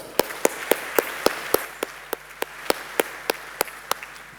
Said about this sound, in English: another round of applause, please, for our Premier sponsor, Stuart McKinnon, also Andrew Stevens.